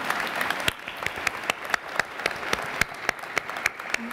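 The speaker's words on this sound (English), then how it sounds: "Your mother, applause for her." Applause from an audience at a public conversation event, with individual sharp claps standing out in an irregular rhythm over a softer background of clapping, moderately close.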